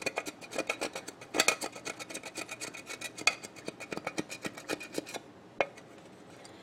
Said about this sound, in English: I'm just going to scrape it off.